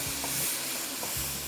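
Ground spices including red chilli and Kashmiri chilli powder being stirred in a pot of hot oil for beef nihari, a steady close sizzle and hiss with a few soft scraping strokes, no talk.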